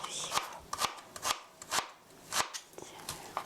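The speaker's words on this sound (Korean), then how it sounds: "다지다가 이렇게 놓으시고 또 다져주시고요" A knife minces enoki mushrooms on a cutting board for mushroom soup, producing quick, irregular crisp chopping strikes in close, rhythmic bursts with short pauses between them.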